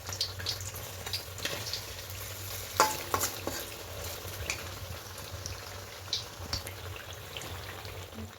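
Battered eggplant fritters (beguni) frying in hot oil on a gas stove, a steady soft sizzle with scattered crackles and a few brief stirring or turning clinks, heard close with no talking.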